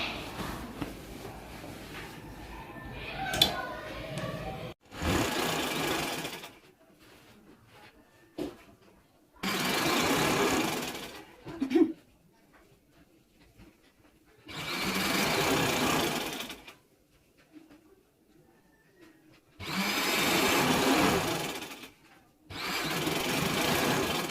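A sewing machine stitches the side seams of a boys' school shirt in five loud, steady whirring bursts of about one to three seconds each, with quiet fabric handling and small clicks between runs.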